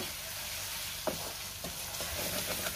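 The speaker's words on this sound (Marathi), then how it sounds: "आणि छान तेल सुटेपर्यंत हा मसाला आपल्याला परतून घ्यायचा आहे" Masala being sautéed in oil in a pan for a Maharashtrian prawn curry gives a soft, steady sizzle, with a few light stirring scrapes near the middle and end and no talk.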